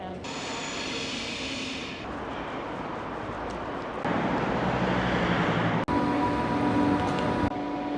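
Steady rumbling Swiss passenger train ride with continuous broadband noise, a brief clunk partway through, and faint tonal hum from the carriage.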